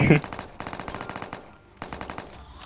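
Rapid automatic gunfire from a gun in the Roblox game All of Us Are Dead, sounding as dense repeated bursts that stop briefly, then resume, loud and up close.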